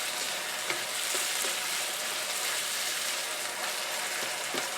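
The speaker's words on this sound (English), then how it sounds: "I'm using my electric wok to make the dish" Chicken chow mein fries in an electric wok with a dense, unbroken sizzle and occasional soft pops and stirring scrapes, close and loud throughout.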